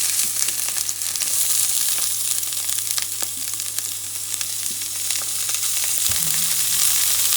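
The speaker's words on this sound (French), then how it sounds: "Allons-y en huile parce que, comme je le disais tout à l'heure, ça éponge sec." Eggplant frying in oil in a pan for ratatouille, a steady bright sizzle that runs throughout with small crackles, close and fairly loud, with no talking.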